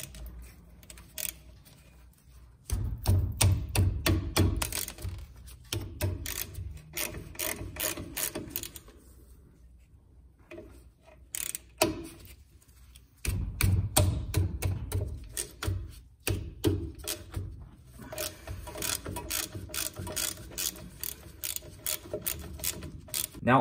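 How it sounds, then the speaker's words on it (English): A hand ratchet works loose 13mm bolts on a Ford Ranger wheel cylinder, giving two long runs of rapid, close metallic clicking split by a short quieter pause. "Now you want to go ahead and unscrew these two bolts."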